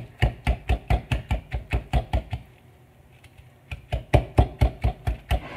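A whisk beats avocado for guacamole in a bowl with a fast, even series of loud knocking strokes, a brief pause midway, then the rhythmic beating resumes; no voices.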